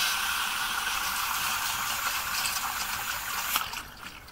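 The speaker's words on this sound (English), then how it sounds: "I'm just gonna put the new water in." Water is poured into a rat trap, a steady close splashing trickle that runs continuously before tapering off with a few final drips and a light knock near the end.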